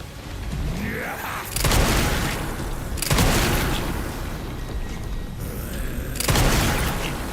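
Gunfire in the survival horror game Resident Evil Requiem: several heavy booming shots spaced a second or two apart, each with a long rumbling tail, loud and close, with no talking.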